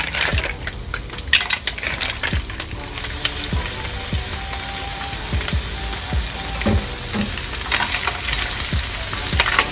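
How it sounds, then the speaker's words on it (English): Seafood hits a hot pan and sizzles steadily for Jjamppong pasta, a loud, continuous frying hiss with small pops and clinks as it is stirred. "lalagay na natin yung ating seafood"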